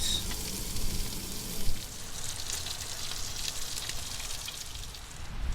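Tortilla dough fries in a hot pan inside a van, giving a steady close sizzle and crackle with a brief louder spatter near the start, and no one talking.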